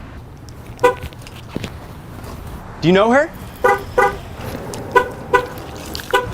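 A car alarm gives short repeated beeps as the car is locked, with one longer warbling tone, while a person talks over the chirps.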